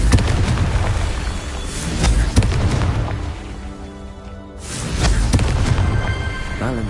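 Fire-spell blasts in the Hogwarts Legacy video game: a run of booming explosive bursts, loud and dense, easing off in the middle before another strong burst returns.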